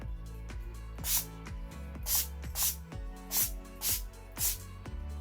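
Temporary pink hair color spray hisses from an aerosol can in six short, rhythmic bursts, close and clear over faint background music.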